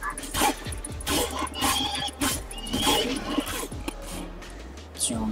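A horse being killed in the video game Skyrim, with whinnying and distressed animal cries amid busy game noise and loud thuds, close and loud over a few seconds while someone talks.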